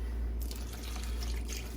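Water from a large bottle pours steadily into a pot while making homemade Cajun boudin, a continuous splashing, gurgling stream heard close and fairly faint, with no talk over it.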